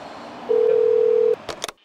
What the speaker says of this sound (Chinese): 给他打电话